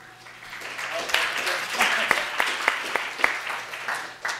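A lecture audience gives a light round of applause, scattered individual claps standing out over a softer wash and tapering off, with a voice speaking over it.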